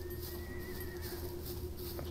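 A horse in the survival video game SCUM gives a short, wavering whinny over a steady background hum and low rumble, fairly quiet and with no talking.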